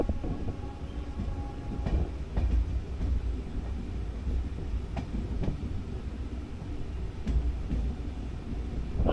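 The Kandari Express runs from Digha to Howrah at night, passing a small station. A steady low rumble and rattle of the carriages is broken by occasional clicks and knocks from the rails.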